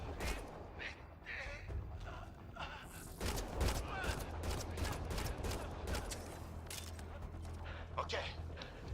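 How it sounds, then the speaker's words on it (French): Gunfire in the Mass Effect Andromeda video game, a busy firefight with repeated sharp shots and bursts scattered across the clip over a steady low background hum, with voices talking throughout. "Les premiers coups de feu."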